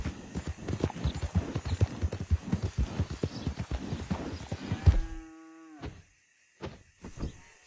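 Horse hooves clip-clop at a steady trotting rhythm while riding in the video game Red Dead Redemption 2, loud and close, then stop; a short tonal sound and a few faint knocks follow.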